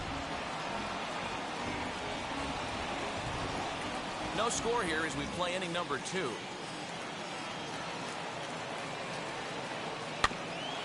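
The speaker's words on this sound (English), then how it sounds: "Yeah, the rain's starting to intensify here. It's coming down a little heavier now." Steady rain hisses over the ballpark during a Dodgers–Cubs game in MLB The Show 21, a soft, even wash of falling water that runs under a commentator's voice, with a single sharp click near the end.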